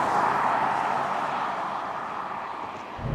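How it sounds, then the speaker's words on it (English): A 2007 Volvo XC70 D5 diesel engine pulling hard on a Scottish road, heard as a steady, loud broadband drone with a faint warble underneath. No talking. "Audi-like warble off in the distance, behind a symphony of sort of freight train and old tanker cruiser."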